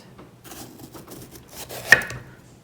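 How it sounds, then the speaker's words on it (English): Knife chopping a red pepper on a cutting board, a series of quiet, irregular cuts ending in one sharper, louder chop, close and faint with no talking. "So I'm gonna chop this green pepper, or this red pepper."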